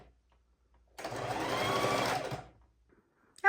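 Sewing machine running in one steady burst of about a second and a half, stitching a folded strip of suit-type (non-cotton) fabric, close and fairly loud, with quiet before and after.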